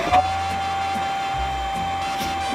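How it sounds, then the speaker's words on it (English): A vacuum cleaner runs steadily close by while cleaning up after work on Blazer parts, a constant whining motor drone with a high tonal hum, no talking. "So I'm gonna get the vacuum."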